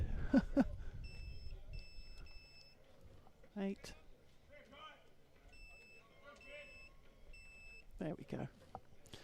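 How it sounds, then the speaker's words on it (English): Repeated high electronic beeps in short rhythmic bursts from a scoreboard controller, sounding in groups, with someone talking intermittently between them during an NSW State League Under 18 game, Ryde Hawks vs Baulko. "So apologies for the beeping at home,"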